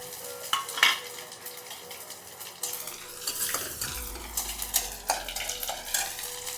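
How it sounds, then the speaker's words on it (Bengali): Cumin seeds, two bay leaves and two dried chillies sizzle in hot oil with a steady, quiet crackle. A spoon or spatula stirs and clinks against the pan now and then. "তেলটা গরম হয়ে গেছে, ফোড়নে দিয়েছি জিরে, 2টো তেজপাতা আর 2টো শুকনো লঙ্কা।"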